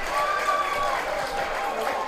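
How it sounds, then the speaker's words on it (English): A crowd at an over-65 field hockey match between Southern Cross Red and Netherlands Orange cheers and applauds after a goal: a steady, dense wash of clapping and shouting with a commentator talking over it throughout. "Big cheers, big applause."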